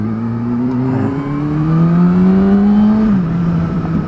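A Kawasaki ZX6R motorcycle fitted with a Yoshimura short exhaust accelerates up through the revs, a loud rising engine tone that drops as it shifts near the end.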